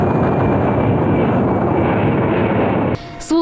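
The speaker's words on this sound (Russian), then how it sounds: "Главная роль здесь у истребителей-бомбардировщиков Су-34, штурмовиков Су-25." Su-34 fighter-bombers and Su-25 attack aircraft roar overhead in a loud, sustained jet rush that cuts off abruptly near the end, followed by a brief different sound.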